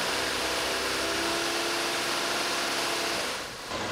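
A car engine held steady at around 2000 RPM, giving a continuous loud broadband roar with a faint steady hum that eases off slightly near the end.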